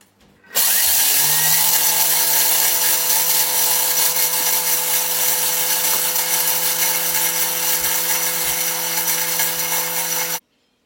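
A kitchen machine grinds red split lentils into fine powder at speed 10, a loud steady motorised whir with a rattling, gritty edge that starts abruptly, holds constant for about ten seconds, then cuts off.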